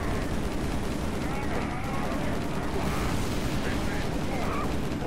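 Gunfire in Halo 3 as Elites are shot, a continuous dense barrage of shots and blasts that stays loud and steady throughout, with speech mixed into the din.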